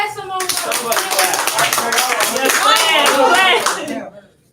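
A history classroom bursts into clapping, a dense, loud round of many hands rising and holding steady for several seconds before cutting off abruptly, with voices mixed in underneath.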